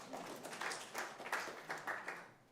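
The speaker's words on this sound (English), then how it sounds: "You can clap for that." A church congregation claps during a Sunday service, a soft, fairly distant patter of many hands that swells in uneven bursts and then tapers off.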